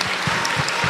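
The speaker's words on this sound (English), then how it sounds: "let's give the teachers a big clap" Audience applause for teachers at a school Founder's Day event, a short burst of dense, steady clapping from a crowd with no pause.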